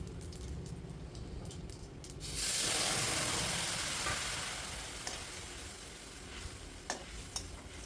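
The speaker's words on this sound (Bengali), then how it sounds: "ঢেলে একটু নেড়ে চেড়ে নিচ্ছি সুন্দর।" Chickpea greens tipped into a hot pan set off a sudden surge of hissing sizzle that slowly settles, followed by a few scrapes and taps as they are stirred.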